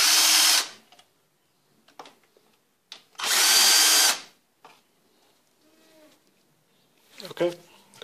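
A power drill spins out the bolts holding a car's ignition coil during a valve cover gasket job, two loud sustained whirring bursts about a second each, separated by quieter clicks and handling noises.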